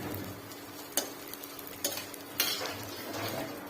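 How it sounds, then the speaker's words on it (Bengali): Onions frying in a pan at home, a soft steady sizzle with a few sharp clinks of a utensil stirring against the pan, fairly quiet and close with no talking. "আর এই দেখো পেঁয়াজ ভাজছে।"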